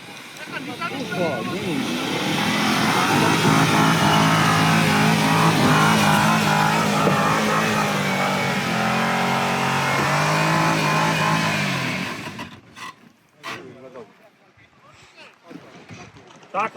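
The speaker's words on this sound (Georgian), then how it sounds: "აი კიდე მოდის იგივე მანქანა" An off-road car climbs a steep hill with a loud, sustained engine roar that strains and revs for about twelve seconds before cutting off abruptly, followed by scattered voices and small knocks.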